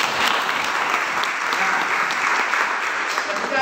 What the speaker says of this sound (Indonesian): tepuk tangan untuk dari Bapeda